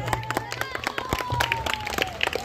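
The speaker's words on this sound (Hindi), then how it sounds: "जोरदार ताली" Scattered clapping rises from the audience at a cultural programme in Sujanagar, Kendrapara, with sharp uneven claps beneath an amplified voice speaking over a sound system.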